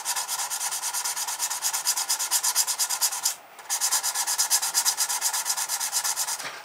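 A Fender Telecaster Thinline guitar neck is sanded through sandpaper grits: rapid, rhythmic back-and-forth rasping strokes, close and loud, with one brief pause midway and no talk.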